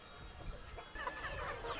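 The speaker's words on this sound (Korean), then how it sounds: "한눈에 보기에도 꽤 많은 수의 닭들." A sizeable flock of free-ranging chickens on a hillside farm clucks continuously, several birds overlapping at close to mid distance, with no talk.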